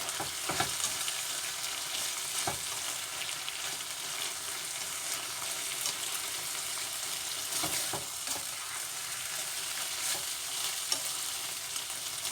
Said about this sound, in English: Just give this a bit of a stir.